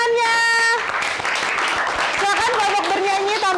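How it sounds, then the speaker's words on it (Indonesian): Classroom of children clapping for a singing group in a Christian religious education class, a brief burst of applause between stretches of speech and sung tones, with a voice talking over the end. "Beri tepuk tangannya"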